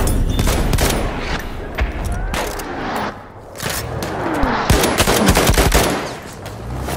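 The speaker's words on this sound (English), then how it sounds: "Wait for the enemy artillery barrage to stop fire." Heavy automatic gunfire and explosions from an enemy artillery barrage in a World War-style shooter's Rush mode, dense and continuous rattling bursts with booms throughout, loud and close with no pause.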